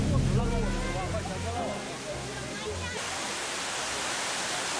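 The Grand Cascade fountains of the Peterhof Summer Palace in Saint Petersburg, fed by a canal linking to the Gulf of Finland, roar as a steady, dense wash of falling water heard at moderate distance.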